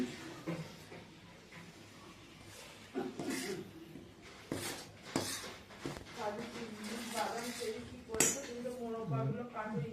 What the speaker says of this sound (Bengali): বেকিং পাউডার দিয়ে পুরো মিক্সিং করে ঘেটে নিলাম